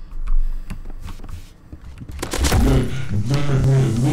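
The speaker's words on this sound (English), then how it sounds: "I'm still on the banana gun." Rapid bursts of cartoonish banana gun fire crackle in a multiplayer shooting game, sparse pops at first, then a denser, louder run of shots blending with harsh tonal effects near the end.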